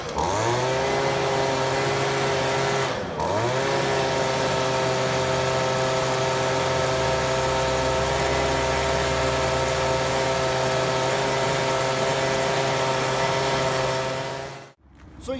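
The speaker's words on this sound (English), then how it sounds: "got a BG50 handheld steel blower right here" A Stihl BG50 handheld leaf blower runs at a loud, steady two-stroke drone up close, with one brief dip in revs early on before it holds steady, then cuts off abruptly at the end.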